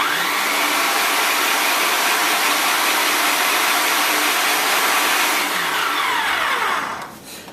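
A blender whirs loudly and steadily up close while breaking down a jerk chicken marinade, then the motor cuts out and winds down near the end.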